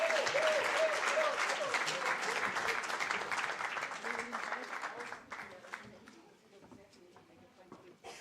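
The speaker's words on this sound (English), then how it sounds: "Let's give them the last round of applause." Audience applause at an annual memorial lecture, a full steady round of clapping that gradually thins and fades toward the end, with faint voices underneath.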